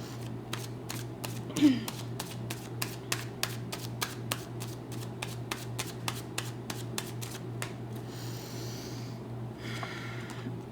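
Tarot cards are shuffled in a rapid run of crisp, evenly spaced riffling snaps, followed by softer card handling sounds near the end, close and fairly quiet over a low hum.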